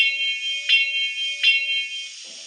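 Electronic locomotive bell sound from a Bachmann EZ App for an ALCo 2-6-0 Mogul model train: a steady high ringing tone with two sharp strikes roughly three-quarters of a second apart, fairly loud and clear, no talking.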